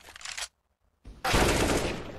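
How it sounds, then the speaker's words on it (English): AWP sniper rifle fire in Counter-Strike: Global Offensive during an ESL Pro League match on the Nuke map: a short burst of sharp shots, a brief silence, then a loud, dense run of gunfire that stays strong to the end. "Brilliant shot with the AWP."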